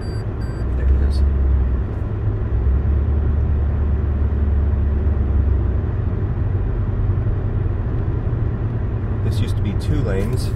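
Car interior on a multi-lane city road away from the beach in Fort Lauderdale, with steady low engine and road rumble throughout and brief higher noises near the end; a person talks over it.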